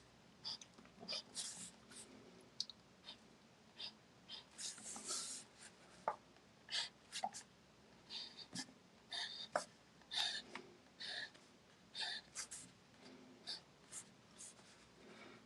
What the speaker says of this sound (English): today I again used this fountain pen from Ellington with this Twilight ink